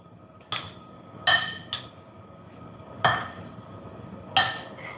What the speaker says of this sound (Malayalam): ഇനി ഇതാ നമുക്ക് നന്നായിട്ടൊന്ന് ഇളക്കി കൊടുക്കാം